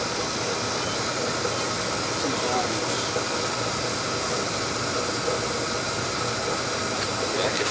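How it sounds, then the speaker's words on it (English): An oil boiler hisses steadily as it releases steam during a purge, a loud, continuous broadband rush with no breaks. "I can feel it's making steam."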